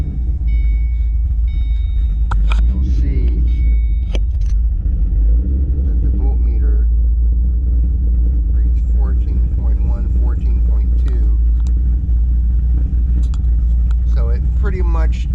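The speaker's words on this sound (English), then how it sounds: "So I'm going to start the car." A 2007 Ford Shelby GT500 with an aftermarket alternator, its engine rumbling steadily at idle throughout with a heavy low drone, while someone talks over it.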